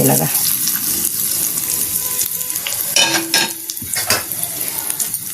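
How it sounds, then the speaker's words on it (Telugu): Hot oil tempering sizzles as it is poured into pounded cucumber chutney, with crackling bursts, clinks of a pan and spoon, and a brief spoken word. "ఈ మనం దంచి పెట్టుకున్న ఈ దోసకాయ పచ్చళ్ళలో ఈ తాలింపు వేసేసుకోవాలండి."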